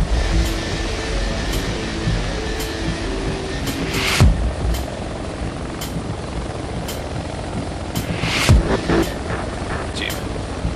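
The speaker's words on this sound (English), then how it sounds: "I think the chopper's full." A helicopter in the military shooter game Project Reality drones steadily with a loud rotor and engine hum. Two sharp louder bursts break through it, and there is faint background noise.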